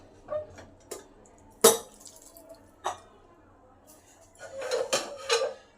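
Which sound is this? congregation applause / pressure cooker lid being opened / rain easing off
pressure cooker lid being opened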